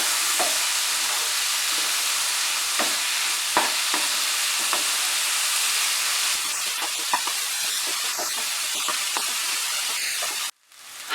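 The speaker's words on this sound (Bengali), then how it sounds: "হাই ফ্লেমে আমি 1 মিনিট মসুর ডালটাকে কষিয়ে নিলাম মশলার সঙ্গে।" Masoor dal with spices and garam masala sizzles and fries on high flame, a steady loud hiss broken by scraping stirring strokes, then cutting off abruptly near the end.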